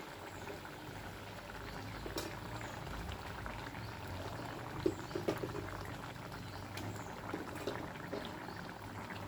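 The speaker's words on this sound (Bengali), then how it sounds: "এবার আলুগুলো একটু সিদ্ধ হতে দিতে হবে।" Potatoes simmering in water in a pot while cooking a Bengali fish curry with black cumin, a steady low bubbling hiss with a few small pops, moderately faint and continuous, no talking.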